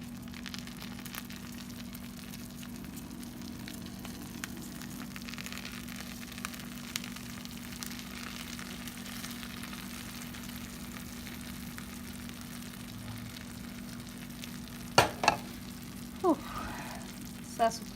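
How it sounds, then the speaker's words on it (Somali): Hot cooked sugar syrup is poured over freshly baked baklava, giving a soft, steady sizzle that hisses on throughout, joined near the end by a few louder clinks and knocks. "haddana waxaan ku darayaa sokortaydii aan kariyey oo sirupka"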